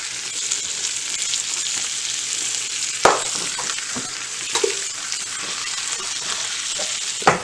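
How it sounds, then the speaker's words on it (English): Onion sizzling and frying in hot butter in a pan, a loud, steady hiss that runs throughout up close, with a few clinks and taps of a utensil against the pan and no one speaking. "Hear that sizzle? That's perfect."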